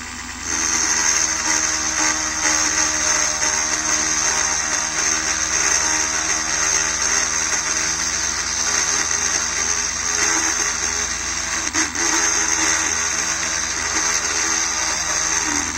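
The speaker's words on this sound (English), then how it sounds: "So use your Dremel" Dremel rotary tool cuts slowly through a windshield, giving a continuous high buzzing whine with a faint grinding edge, close and steady for the whole stretch with no talking.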